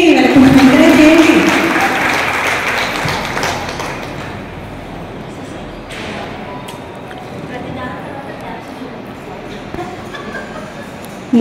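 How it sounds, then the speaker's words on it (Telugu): Audience clapping at an International Women's Day celebration held by a women's association in Jogipet, loud and dense at first, then thinning into lighter scattered claps under crowd murmur and voices. "క్లాప్స్ ఇవ్వండి, వాళ్ళకి ఎంకరేజ్ చేయండి"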